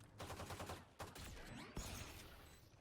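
Bursts of rapid gunfire in a Valorant match on the Lotus map, loud and close, with fast rattling shots broken by a brief pause near the one-second mark, then a sharp crack and a fainter trailing volley.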